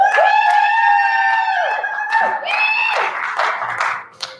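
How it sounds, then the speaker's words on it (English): A pageant audience greets the contestants with high, sustained shrieks and whistles from the crowd, which give way to a burst of scattered clapping and cheering near the end. "Let's give a big round of applause for all of the contestants here tonight."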